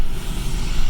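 Road traffic rumbles and whooshes through an open car window while driving around town in upstate New York, a loud, steady wind-buffeted roar with no voices.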